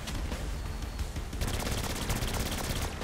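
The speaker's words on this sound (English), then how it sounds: "Shotgun." Dense gunfire from Saints Row IV, a shotgun among the weapons, booming in a continuous loud barrage with sharp repeated blasts throughout.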